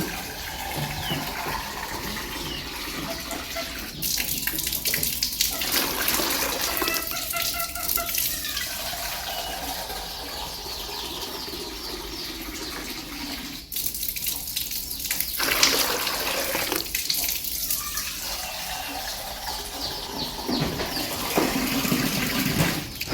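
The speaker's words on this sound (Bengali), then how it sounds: "এক কেটলি গরম পানির সাথে আমি আবার ঠান্ডা পানি মিক্স করব" Cold water is poured into a kettle's worth of hot water to make drinking water for goats in winter, heard as several sustained splashing pours that start, pause and resume at close range.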